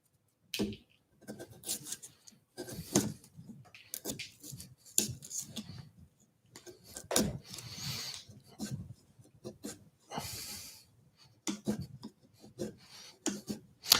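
Rough rasping strokes of a carving tool peeling hard pear wood, a series of irregular scraping bursts separated by short pauses, close and fairly quiet.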